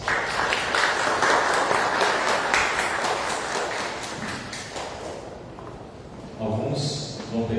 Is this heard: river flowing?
no